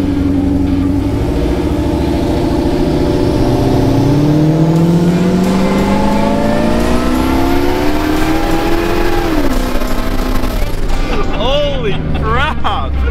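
A Snow Bombi snow vehicle's engine revs hard during a ride, its pitch climbing steadily for several seconds before dropping back, loud and close over a constant mechanical roar, with a few quick blips near the end.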